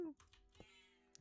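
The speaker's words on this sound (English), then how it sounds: "There's a cat. She wants my attention." Pet cat meowing for attention indoors, one brief close meow at the start and another at the end, with faint keyboard tapping and a voice speaking in between.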